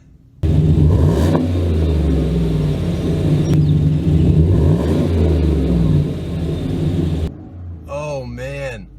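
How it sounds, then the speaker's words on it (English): GMC Sierra Black Widow pickup truck with an aftermarket Gibson exhaust, revved repeatedly, giving a deep rumbling exhaust note that rises and falls close to the microphone before cutting off, followed by a brief voice. "I'm going to give you some revs now from inside the cab"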